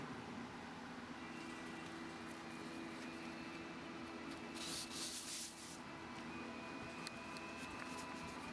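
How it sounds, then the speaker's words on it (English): A knife blade being hand sanded with 320 grit sandpaper after belt grinding to 120 grit, a steady close scratchy rubbing that continues evenly, with a brief louder swipe partway through. "So I went down to 120 on the belt, and now I'm doing hand sanding at 320."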